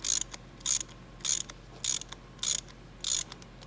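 Small ratchet on a tight bolt of an S-tronic gearbox, six evenly spaced bursts of sharp rapid clicking, close and distinct, with quiet gaps between strokes, no voices.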